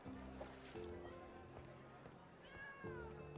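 A cat meows twice in the Travellers Rest video game, short game-audio cries over a steady background music loop, with soft speech partly mixed in.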